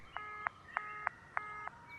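Three evenly spaced pairs of telephone dial tones in the game Who is Abby, each a short steady electronic beep bracketed by clicks, repeating in a regular rhythm at a quiet level over faint background hum.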